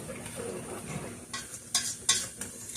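A spoon stirs a cheesy broccoli and tomato pasta sauce with milk cooking down in a pan, faint bubbling and simmering punctuated by a few soft scraping strokes and light utensil clinks near the end.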